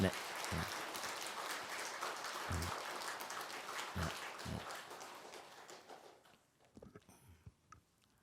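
Scattered applause from an assembly at a Buddhist dharma talk greets the BBS broadcasting president, a steady patter of hand claps with some louder close claps, tapering off into quiet with a few stray sounds.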